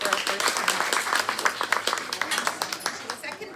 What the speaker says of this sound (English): A big round of applause for our first